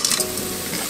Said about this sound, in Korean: 기름 없이 볶습니다